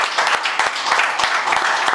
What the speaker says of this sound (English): Okay, please clap.